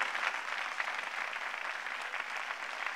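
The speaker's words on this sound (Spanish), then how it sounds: "Denle un aplauso grande de bienvenida." Audience applause welcoming a speaker at a church service, a steady dense wash of clapping from a crowd, fairly distant and even throughout.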